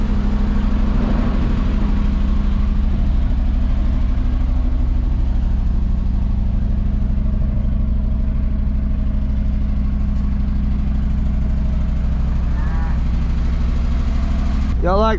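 A heavy fire truck engine idles loudly and steadily from start to end, a low constant rumble at a fairly high idle, with a voice briefly heard near the close.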